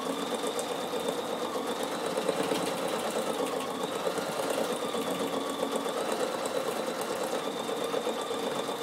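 A Bernina sewing machine stitches fabric at a steady pace, producing a continuous close mechanical whir and rapid needle chatter without pause or talk.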